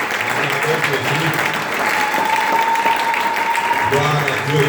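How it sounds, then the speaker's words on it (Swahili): Congregation applauding during a Sunday church service, a sustained wash of clapping from many hands that continues under raised voices and background music. "Mpigie Yesu makofi."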